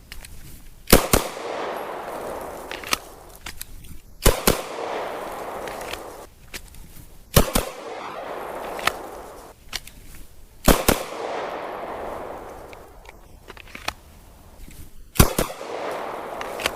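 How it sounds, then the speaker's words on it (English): Handgun shots crack out at an outdoor shooting range during a retired officer's pistol qualification, sharp loud reports coming in quick pairs with pauses between strings, some echoing off the range. "just concentrate on drawing pretty quickly, getting off my 2 shots, and getting the weapon back in the holster"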